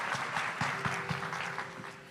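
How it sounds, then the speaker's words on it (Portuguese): A church congregation applauding at a worship service, a steady wash of many hands clapping at moderate distance with a faint sustained tone underneath, no voices over it. "Vamos aplaudir o Senhor?"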